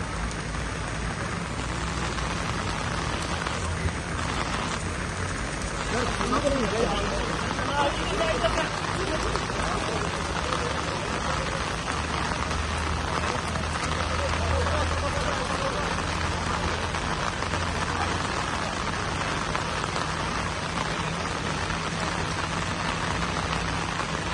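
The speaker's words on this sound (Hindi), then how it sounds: "बहुत ज़्यादा बारिश हो गई है यहाँ सुबह से" Steady heavy rain pours down in a constant hiss at the Supreme Court of India's Independence Day event, with muffled voices and crowd murmur underneath.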